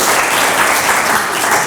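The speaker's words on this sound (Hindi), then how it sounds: "सही, तालियां।" Thick, continuous applause from a seated audience at a talk, loud and close, holding steady without any speech.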